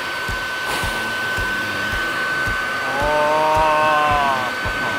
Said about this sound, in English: I like to do the vacuum when we're cutting out of structures or even a beehive that's up in the tree.